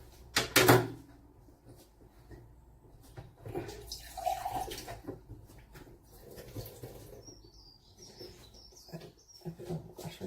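A short burst of tap water splashes into a coffee cup to rinse out the last bits, followed by quieter kitchen clatter and faint household sounds, with no talking.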